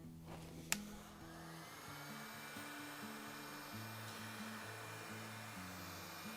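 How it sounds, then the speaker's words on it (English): Heat gun blowing over fresh paint on an artist's panel, a steady airy whir with a faint tonal drone, one brief knock near the start, quiet and continuous. "Now once that's done, we have to wait for it to dry, or we use a heat gun."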